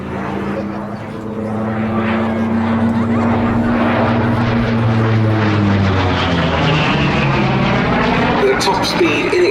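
A Grumman Bearcat with a 2,100-horsepower Pratt & Whitney Double Wasp radial engine flies at a Duxford air display, its deep propeller roar swelling and shifting in pitch as it passes close, with a commentator talking over it.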